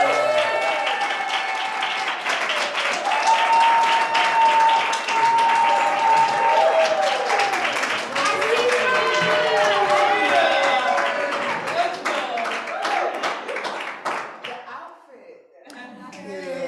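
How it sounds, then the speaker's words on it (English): An audience at a poetry reading night claps for a poet, a sustained patter of applause mixed with voices and cheering on top, thinning out near the end. "Can you give a Riley round of applause?"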